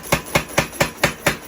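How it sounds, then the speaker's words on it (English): A power hammer pounds a high carbon steel handle in a blacksmith's forge, seven sharp, evenly spaced blows in quick succession, loud and close. "Now we're going back to the power hammer again"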